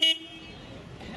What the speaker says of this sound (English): What sound should come from a plane when you honk the horn?